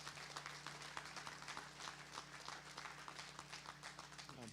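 Audience applause at a Clemson Athletics graduation brunch in May 2022, a steady wash of many hands clapping together for families and helpers, fairly far off and even in level throughout.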